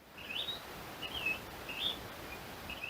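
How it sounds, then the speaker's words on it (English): A bird calls outdoors near a workshop site, several short high chirps repeating about every half second against a steady, faint background hiss, with no talking. "There's a bird interrupting me"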